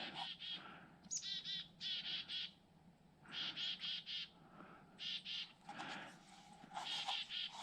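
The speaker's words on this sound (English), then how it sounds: "Chickadees are responding." Chickadees call in quick, repeated bursts of bright, buzzy notes, fairly close and clear against a quiet outdoor background, several call sequences over a few seconds.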